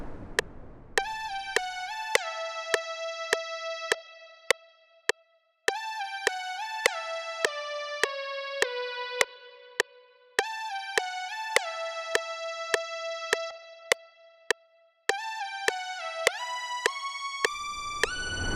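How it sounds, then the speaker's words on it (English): Lead synth melody in an ABAC phrase structure, bright and bouncy with short staccato plucked notes in repeating phrases, played alone and clear for about eighteen seconds. "a lead making use of this structure would sound something like this"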